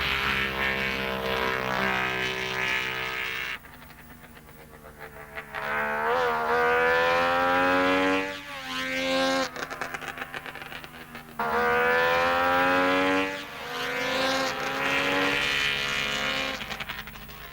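1960s rally cars with 90-horsepower engines, including the Saab 96, roaring down a straight, loud revving passes rising and falling in pitch one after another, with brief dips between runs and no talk.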